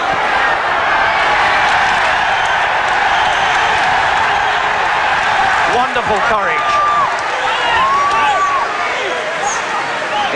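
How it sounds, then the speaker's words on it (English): A French boxing crowd roars steadily in an arena during a hard-fought bout, the loud wash of cheering and applause running under someone commentator speaking throughout. "He's bringing this French crowd to its feet"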